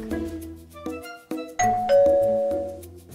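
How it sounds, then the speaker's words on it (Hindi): A doorbell at a house rings a melodic chime, several tones struck one after another, each ringing on and fading, clear and close with no talking. "ऐसे स्वीट बेल"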